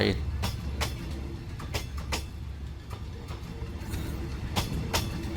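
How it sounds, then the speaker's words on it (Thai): Rhythmic clacking of a train rolling past over rail joints near Bang Sue Grand Station, Bangkok, with a low rumble and occasional sharp metallic knocks, moderately close. "มาดูขบวนรถไฟก่อนนะครับ"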